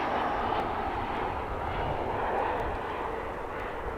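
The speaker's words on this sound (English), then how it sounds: "coming in from Los Angeles, it's American Flight 2459" An American Airlines jet arriving at DFW from Los Angeles, its engines giving a steady, moderately loud rumbling roar that holds evenly from start to finish.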